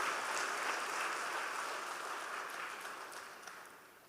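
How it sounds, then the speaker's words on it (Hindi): Steady applause from a seated audience at a spiritual discourse, a continuous wash of clapping that holds evenly for a few seconds before tapering slightly at the end, with no talk over it. "तालियां बजाओ जरा अच्छी तरह से,"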